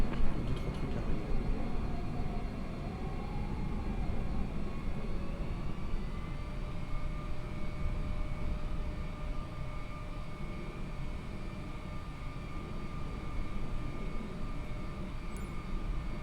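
An airliner in Flight Simulator 2020 holding on the runway before takeoff, a steady engine roar with a constant whine, moderately loud and unbroken, with no voices.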